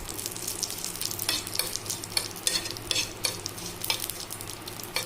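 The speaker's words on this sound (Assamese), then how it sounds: "সকলোখিনি মই এয়া অলপ ভাজি ল'ম।" Mustard seeds and curry leaves frying in mustard oil in a pan, a steady close sizzle and crackle with scraping stirring bursts throughout, no voices.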